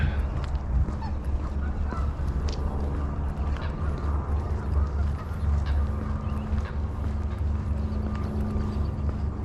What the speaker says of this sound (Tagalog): Narinig ko na yung mga ano, kwak kwak kwak ng mga pato.